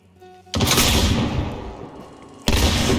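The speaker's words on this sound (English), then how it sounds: "So I missed him with the first shot from the shotgun." A heavy shotgun and rifle blast in the video game Hunt: Showdown, a loud booming report with a long rumbling tail, followed by a second sharp shot after about two seconds.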